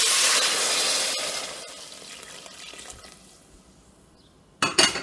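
Water pours into a pot of white bean, sausage and kale soup already holding chicken broth, a loud rushing hiss that gradually fades, then ends with a short clatter.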